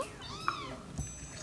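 A small, high meow rings out, then a second cry follows a moment later, both fairly clear against quiet background hiss.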